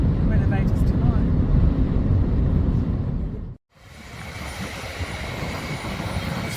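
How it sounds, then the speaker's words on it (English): A TranzAlpine passenger train passes with a loud, steady rumble and roar that cuts off briefly, then resumes as a broad rushing noise close by. "That's the Transalpine train"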